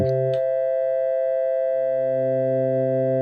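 Several steady electronic tones sound together in a music composition demonstration of combination tones, sustained pure pitches with a faint click near the start and a new lower tone entering partway through.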